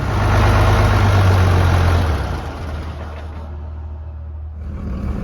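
A tractor engine idles steadily with a deep low rumble, loud at first and then easing slightly to a constant, even drone.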